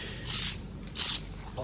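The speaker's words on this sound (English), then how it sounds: "We're going to spray it on the pinch weld, just in some spots." Two short bursts of silicone lubricant sprayed from an aerosol can onto a car's pinch weld for a Baja Bug window install, each hiss lasting about a third of a second, close and fairly loud over faint background noise.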